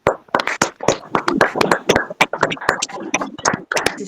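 A women's fellowship prayer gathering claps in praise, producing loud, rhythmic, closely spaced hand claps with no talk over them.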